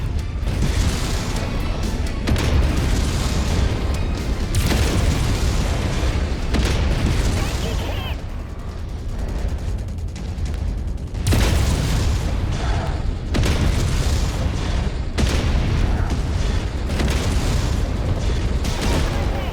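Repeated booming weapon fire and explosions from battling mechs in MechWarrior 5 played in VR, dense and loud throughout with several sharp bursts, mixed with a voice talking over the action.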